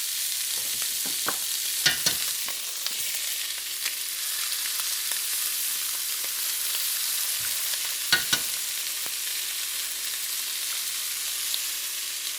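Frozen peas and eggs are stirred into andouille sausage fried rice in a hot pan, with a soft, continuous sizzle and a few scraping clicks of a utensil, no talk.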